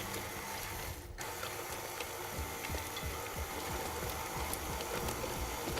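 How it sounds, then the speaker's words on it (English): A mixer turns at slow speed, combining Christmas cake batter with nuts and cherries, giving a steady, fairly faint mechanical whir with a soft repeated clatter throughout. "So time to combine our ingredients together at slow speed."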